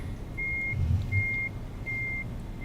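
Three evenly spaced electronic reversing beeps from a Scania truck in Euro Truck Simulator 2, sounding steadily over a low engine rumble, with no voices.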